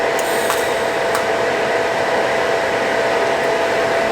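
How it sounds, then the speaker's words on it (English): Welding an aluminum fan shroud for an LS-swapped Defender with the welder set to AC, a steady, loud buzzing hiss holding constant throughout with a few faint crackles. "But now we have about 6 inches of welding to do."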